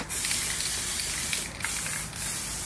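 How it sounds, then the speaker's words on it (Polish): Silver aerosol spray paint hisses onto a medium orange pumpkin in long continuous bursts with two brief pauses, loud and close with no talking. "użyję tej farby w sprayu, srebrnej"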